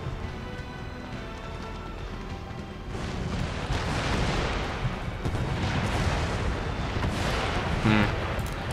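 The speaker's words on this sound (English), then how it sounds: "I think I'll just silence the artillery for time being." Artillery cannons firing in an Empire: Total War siege of Sarajevo, a dense rumble of booms and battle noise that swells after the first few seconds, with a sharper blast near the end.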